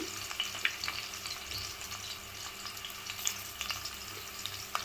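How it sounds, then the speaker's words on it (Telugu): Fried onions and egg dum biryani ingredients sizzle in a hot pan, a steady crackling fry with small pops and stirring scrapes, close and continuous without talk. "కొంచెం ఫ్రై ఆనియన్స్ కూడా వేస్తున్నాను."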